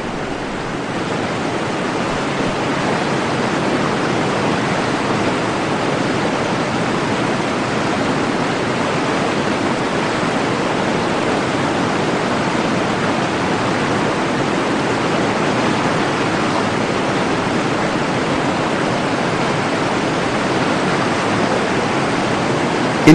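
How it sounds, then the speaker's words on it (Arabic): Niagara Falls roars as a constant broadband wash of falling water, loud and unbroken for over twenty seconds with no voices. "في واحد من أكبر عروض القوة في الطبيعة التي خلقها الله تعالى على هذه الأرض إنها شلالات نياجرا"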